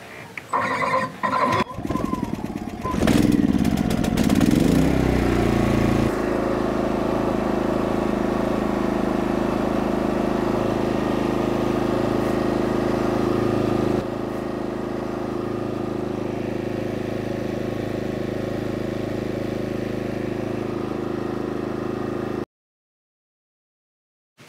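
A propane generator starts with a few rough bursts, then settles into a steady, efficient low idle hum that drops slightly in level partway through before stopping abruptly into silence.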